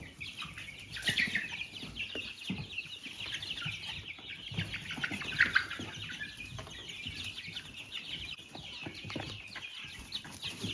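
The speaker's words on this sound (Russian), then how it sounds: "И вот можете видеть, как быстро растут цыплята." A flock of crested Dominant chicks eating compound starter feed, giving a steady, dense chorus of high peeping and soft clucks with occasional wing flutters and pecking taps, close and continuous throughout.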